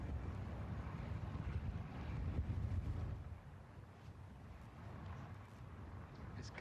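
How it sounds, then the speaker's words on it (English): Gusting wind sweeps across a golf course at the Open Championship, a broad rushing roar buffeting the microphone that swells and eases in waves, with no talking. "It's gusting. It's gusting."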